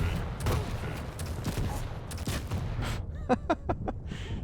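Shotgun blasts and weapon fire in a 4v4 Quake Champions match, a busy run of sharp shots and mechanical clanks ending in a quick rhythmic burst of metallic hits, with a voice faintly beneath.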